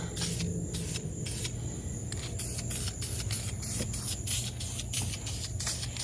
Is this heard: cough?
no